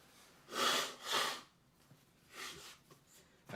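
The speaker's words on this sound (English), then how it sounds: "I gotta sneeze, hang on." A sick person snorts and sniffs in a few sharp bursts while trying to hold off a sneeze, fairly faint and close, with no talking.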